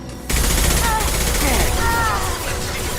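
Gunfire in the video game Mass Effect 2, a loud continuous barrage of weapon fire starting abruptly after a brief quiet moment and carrying on with combat effects layered over it.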